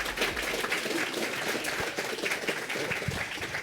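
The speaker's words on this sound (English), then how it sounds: "Applause for David Craddock." An audience applauds a speaker at a talk with a continuous patter of clapping that sounds somewhat distant and blends into a steady wash.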